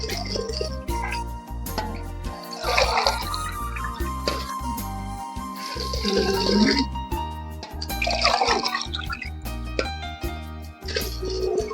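Water is poured from a small vessel into a cooking pot of chicken biryani masala in a home kitchen, heard as intermittent splashing and gurgling over a persistent low hum, with a voice speaking between pours.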